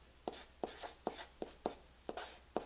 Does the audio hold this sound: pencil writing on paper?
yes